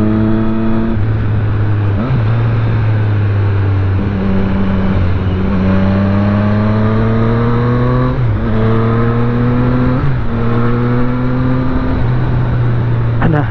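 A Triumph Street Triple R motorcycle from 2018–2019 with low ride height, ridden on a twisty road: the engine note rises repeatedly through the gears, dropping at each shift every couple of seconds, loud and close under wind.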